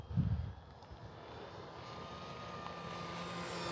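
A Tower Hobbies Seawind 1.4 m RC model seaplane in flight, its quiet electric motor giving a faint, steady hum and whine from a distance, with a brief louder thump at the start and no talk.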